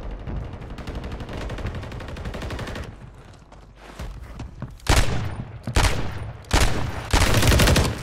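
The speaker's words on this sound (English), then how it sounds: "I missed a total of 8 shots there." Gunfire in Call of Duty on the Fortune's Keep map: rapid automatic bursts crackle loudly and close, broken by brief gaps, with a few sharp single shots.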